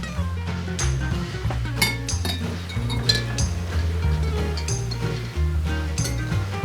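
A spoon stirs a mixture in a glass, clinking rhythmically against the sides in quick repeated taps that run steadily throughout, close and fairly loud over a low background hum.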